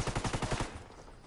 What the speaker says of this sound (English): There's snipers shooting down that right side